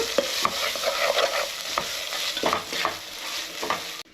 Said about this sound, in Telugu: కలుపుకుంటూ ఉండాలండి, లేకపోతే అడుగు పట్టేస్తుంది అల్లం వెల్లుల్లి పేస్ట్